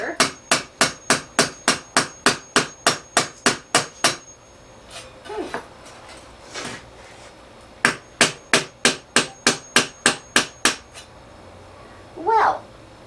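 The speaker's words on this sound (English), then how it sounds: "So I'm just going to try to hammer these suckers under." Rapid, evenly spaced hammer blows drive wedges under a circular epoxy-filled table, with one steady burst of about fifteen loud strikes, a pause with a few scrapes, then a second burst of about ten strikes, heard up close.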